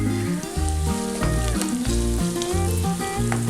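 Garlic and ginger frying in oil for a wild lemon pickle crackle in a steady sizzle, heard beneath loud, rhythmic background music.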